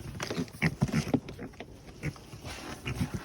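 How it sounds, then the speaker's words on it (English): Pigs grunt and snort in short, close bursts while frolicking and playing, with a few quieter pauses in between. "The pigs frolic and play."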